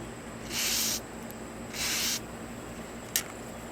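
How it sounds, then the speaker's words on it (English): Two short hissing bursts of an aerosol spray can on rusty metal at a chicken coop, about half a second each, followed by a quick tiny spritz. "Spray the backside."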